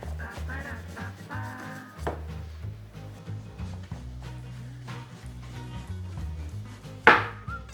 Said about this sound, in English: now with our eggplant cleaned and a little bit of the skin cut off